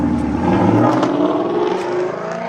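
A loud car revs as it passes on a Detroit street, a brief throaty engine roar that swells and fades over a couple of seconds, fairly close with no talk over it.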